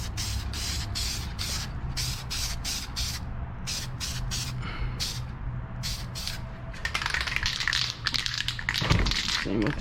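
An aerosol can sprays a coat onto car bodywork in short hissing bursts, close and steady, with a longer continuous spray toward the end over a low background hum.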